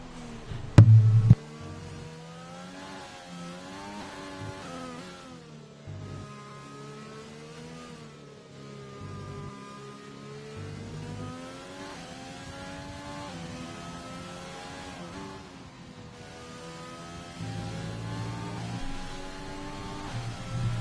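A Formula 1 car engine on a qualifying hot lap at the Hungarian Grand Prix in an F1 video game, a high-pitched continuous whine rising and falling through gear shifts and corners, heard from on board, with no talking.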